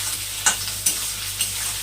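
Carrots, green chili and capsicum stir-fry in a pan for a chowmein Manchurian snack, a steady sizzle broken by three sharp scrapes of stirring spaced about half a second apart, close and alone without voices.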